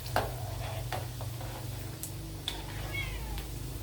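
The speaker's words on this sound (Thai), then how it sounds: "น้องแมวคูมันก็ร้อง อยากออกแล้วเอาข้าวให้กินแล้วก็อยากออก" A house cat meows repeatedly in short, sharp calls, fairly close, with a steady low hum running underneath.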